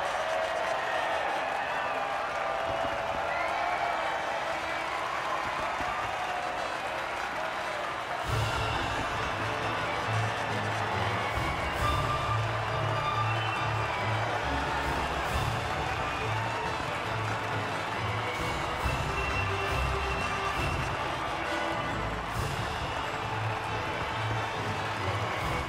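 Virtual crowd cheering and applauding at the podium after the F2 2022 Abu Dhabi race in the F1 22 game, a steady continuous roar with scattered claps, with a commentator's voice talking over it.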